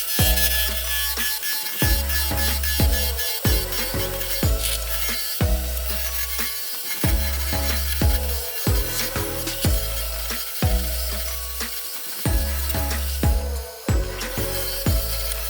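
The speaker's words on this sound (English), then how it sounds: "rough this out into a nice cylinder. We can do that with either our roughing gouge" A roughing gouge cuts a spinning wood blank on a lathe, shaping it into a cylinder. The cutting comes as loud, repeated rasping bursts at a regular rhythm, with no voices.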